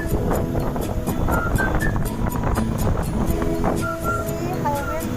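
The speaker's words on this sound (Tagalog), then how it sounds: "See how windy it is out here." Loud wind buffets the microphone outdoors on a busy street beside a condo in Manila, a constant roaring rumble with faint traffic underneath.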